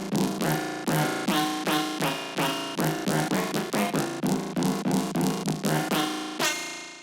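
A low synth rhythm bass plays a loud, punchy pattern of repeated stabs in a steady groove, then ends on a longer sustained note, with no voices.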